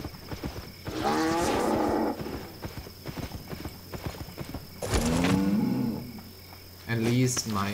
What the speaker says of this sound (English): At least my ox is entertaining me with his mooing.